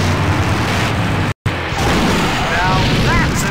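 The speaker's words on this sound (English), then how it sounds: "Now that's an explosion, ladies and gentlemen!" A loud explosion in the 1995 adventure game Full Throttle, a heavy booming blast with a sharp cut to silence midway, followed by a rumbling roar and a whistling sweep.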